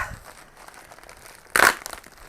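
A crinkly plastic mailing package holding an astrological calendar is flipped over. One quiet, sharp burst of crinkling and crumpling comes close up near the end, after faint handling.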